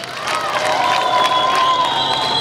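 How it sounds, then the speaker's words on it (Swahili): A crowd at a political rally cheers and shouts with some clapping mixed in, lively and sustained, over a steady hum of voices and whistling tones. "Makofi mengi sana kwa Rais Samia."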